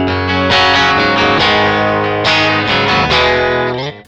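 Telecaster clean tone run through an American Sound pedal straight into an interface with no speaker simulation: a few strummed chords ringing out loud and alone, fading at the end.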